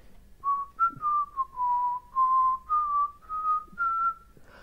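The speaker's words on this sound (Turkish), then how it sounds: "Islık çalmak bu." A person whistles a short, slow melody of about eight sustained notes, each clear and close, with brief pauses between them.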